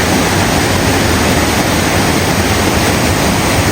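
Kanthanpara waterfall in Wayanad, Kerala, with its rushing water making a loud, steady, broadband roar that fills the whole stretch without a break.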